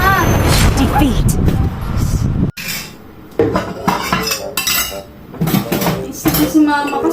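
Dishes, pots and pans clatter and clink loudly as they are washed at home, with metal and crockery knocking together nearly nonstop, broken by a brief pause, while people talk over the clatter.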